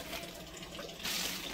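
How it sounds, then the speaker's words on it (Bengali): Water poured onto mango and lemon trees makes a steady rushing splash that swells louder partway through, with no voices. "ও গাছে জল দিতে গিয়ে সব বড় বড় গাছগুলোতে জল দিচ্ছে, আম গাছ, লেবু গাছ"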